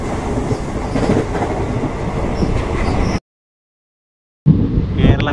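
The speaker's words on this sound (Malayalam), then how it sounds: "ഡീസൽ എഞ്ചിൻ വെച്ചാണ് ഇപ്പോൾ ഇത് ഈ ട്രെയിൻ ഓടുന്നത്" A diesel train runs on the British-era metre-gauge line through Nilambur in Kerala, a steady close rumble with wheel clatter that cuts out briefly and then returns.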